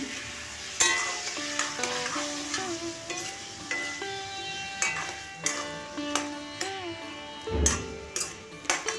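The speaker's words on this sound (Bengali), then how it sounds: "আলুগুলোকে ভেজে নেব।" Potatoes sizzle and fry in a pan with turmeric, with steady sizzle and stirring scrapes throughout, plus a spatula clank near the end, over background music.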